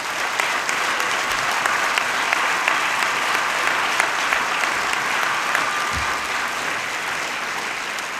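Sustained audience applause fills a cinema hall during a film preview event, a dense, steady roar of many hands clapping at an even level throughout, with no voices rising above it.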